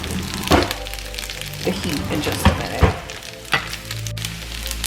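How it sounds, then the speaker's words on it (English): Rice and eggs for shrimp fried rice fry in a hot pan with butter, onion and garlic, a close crackling sizzle punctuated by a few sharp spatula knocks and pops, with a person talking over it. "letting that rice fry up"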